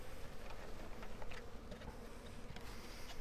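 Honey bees being shaken from a package into a hive, a faint, dense, steady buzz of a swarm with no voices over it.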